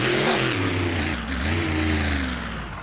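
A custom race vehicle's engine revs loudly and steadily at an outdoor race event in Honolulu, its pitch rising and falling in continuous waves across the whole stretch with no talk over it.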